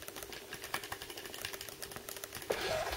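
Mechanical switch buttons on a Razer Onza Tournament Edition Xbox 360 controller click rapidly and close up, a dense, even run of light taps that brightens toward the end.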